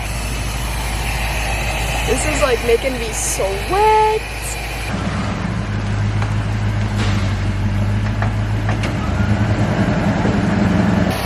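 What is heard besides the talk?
car being moved nearby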